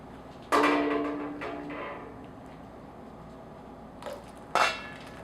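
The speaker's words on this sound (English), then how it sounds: "I can immerse this glass into the boiling hot water" A glass cup is lowered into a pot of boiling water for kashering, giving two sharp clinks against the pot, each followed by a brief bubbling hiss, with a quiet gap between them.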